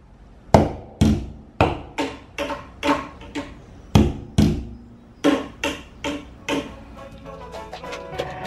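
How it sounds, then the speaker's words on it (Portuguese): A series of sharp, crunching taps, about a dozen strikes in an uneven rhythm with short pauses, close and fairly loud, as a child hammers brittle eggshells. "Agora quer martelar tudo."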